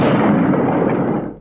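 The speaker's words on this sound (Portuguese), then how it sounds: "Bruscamente, ouve-se uma explosão." A single powerful explosion at night in Luanda, Angola, a loud booming blast that fills the sound at once and rolls off into a fading rumble within about a second and a half.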